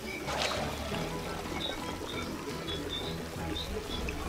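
Water pours steadily in the video game It Takes Two, a continuous soft splashing stream with a few faint high chimes in the game's ambience.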